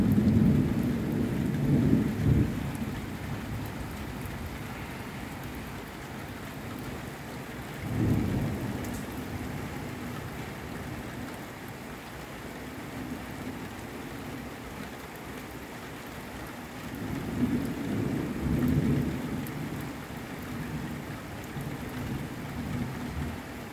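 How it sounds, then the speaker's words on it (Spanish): Heavy nighttime rainstorm in Colima, Mexico, heard from indoors: steady downpour hissing throughout, with three low rolling thunder rumbles swelling and fading at irregular intervals. "rayos y centellas, está lloviendo fuerte aquí en Colima"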